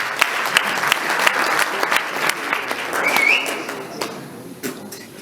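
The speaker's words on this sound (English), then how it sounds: "Can you give them a round of applause?" Audience claps at a sports awards gala in Plettenberg Bay, a fairly close, scattered round with sharp individual hand claps that swells and then thins out near the end.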